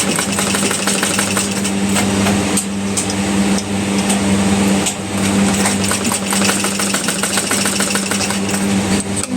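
A sewing machine stitches the sleeve of a size 40 blouse, a steady, loud motor whir with a fast rhythmic needle chatter that runs almost without a break.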